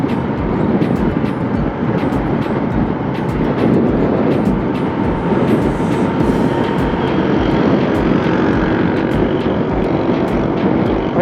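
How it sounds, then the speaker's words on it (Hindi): Strong wind buffeting a camera microphone while riding a Honda CB150F motorcycle on Zargoon Road near Quetta: a loud, constant, rumbling roar with no letup throughout. "कैमरे लगा दिए, माशाल्लाह हवाएं ज़ोर से चलने लगी। अब पता नहीं आवाज़ कैसी रिकॉर्ड हो रही है।"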